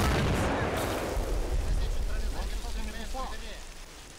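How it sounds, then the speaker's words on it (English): Mortar rounds burst on a trench system in a 1919 Hungary-versus-Romania battle in the InterWar mod for Assault Squad 2, a dense, rolling barrage of heavy explosions and crackling debris that slowly eases toward the end. "It doesn't get much more perfect when you actually have a mortar round land inside a trench system."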